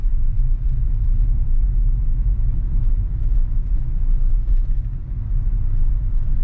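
A Tesla running FSD 12.5.2 drives itself through downtown Seattle at rush hour, heard from inside the car as a constant loud low road rumble and drone with no talk.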